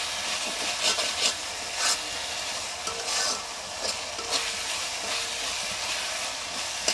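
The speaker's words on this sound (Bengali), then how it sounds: "আমি এখন মশলাটাকে ভালো করে কষিয়ে নেব।" Masala spice paste for mutton curry sizzles steadily in a pan while a spoon scrapes and stirs it in repeated rubbing strokes, close and continuous with no talk.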